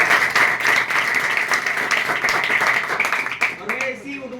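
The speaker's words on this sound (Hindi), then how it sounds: "भाई के लिए भी शानदार तालियां एक बार।" Sustained audience applause for a student's brother at a Hindi-language gathering, dense steady clapping that carries on for several seconds before thinning out as a voice cuts in near the end.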